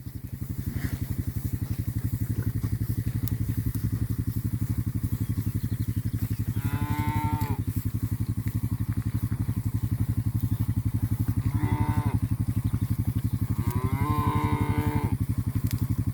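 Several cattle in a herd moo at intervals, three drawn-out calls rising clearly above a steady low rumbling background, fairly close and loud.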